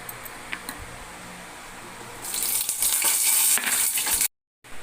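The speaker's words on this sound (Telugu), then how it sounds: "ముందుగా ఎండుమిరపకాయలు వేయించుకుందాం." Dry red chillies fry in a pan, starting quietly before a bright sizzling and crackling swells up, then cuts off abruptly near the end. No one speaks.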